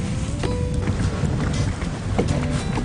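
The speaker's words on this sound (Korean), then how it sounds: "자, 슬슬 바람이 불어오기 시작했네." Steady wind gusting over open water on a boat during afternoon bass fishing, a broad continuous rush with light water sloshing, no voices.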